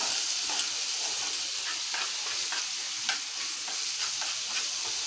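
Fish curry masala with ginger, garlic and onion paste, chili and turmeric powder sizzles steadily in oil in a pan. The frying hiss stays constant throughout, with soft scraping stirs now and then.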